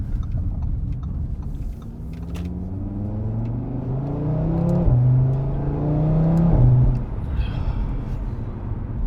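A 2018 Audi RS3 quattro accelerates on the road, its engine note climbing through the gears with a rising pitch and a brief drop at a shift, heard from inside the car over tyre and road rumble.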